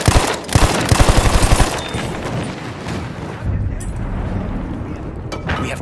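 Enemy machine gun fire in Battlefield 1 rattles in rapid loud bursts up close, then gives way to rumbling battlefield noise and distant explosions, with faint voices mixed in.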